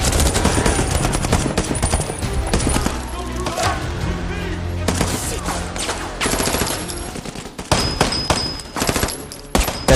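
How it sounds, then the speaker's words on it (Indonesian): Gunfire in a film scene of guns shooting at rebels: dense, loud bursts of rapid automatic fire and overlapping shots with sharp crack peaks, sustained throughout with brief lulls. "Seketika Mason dengan senjatanya menembaki pemberontak tersebut."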